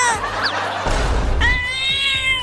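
Cats meow sharply and caterwaul in a domestic comic scene, several close, loud cries in quick succession with a brief scuffle between them.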